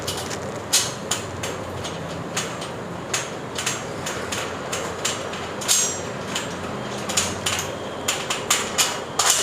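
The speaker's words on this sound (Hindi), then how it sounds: "तो यहाँ भी हम एक मिड क्लैंप इसमें लगा देते हैं।" Metal clicks and light knocks from fitting a mid clamp onto an aluminium solar panel mounting rail, a series of sharp close taps at an uneven rhythm over a low background hum.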